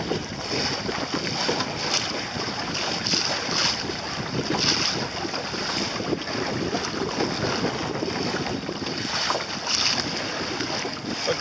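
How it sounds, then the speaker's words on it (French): Wind rushes past an Optimist sailing dinghy out on open water, a steady gusty roar with microphone buffeting and water slapping the small hull, continuous and close throughout without speech. "fais attention, il y a du vent"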